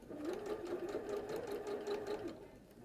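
Sewing machine running steadily for about two and a half seconds, stitching around pinned gathers of fabric at a head, close and fairly loud, slowing off near the end.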